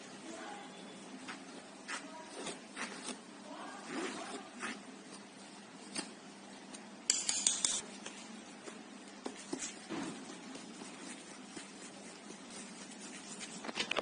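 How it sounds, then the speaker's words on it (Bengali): Soft, uneven rustling and pattering as pancake premix with cocoa powder is sifted through a sieve, quiet and close, with a few sharper taps on the rim partway through. "এরপর এই সব কিছুকে একসাথে ভালোভাবে আমরা চেলে নেব।"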